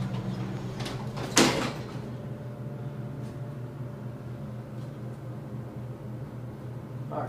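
A Thyssenkrupp scenic elevator at a Marriott resort hums steadily as it runs, with one sharp door clunk early on and faint mechanical ticks after it, heard alone without talk.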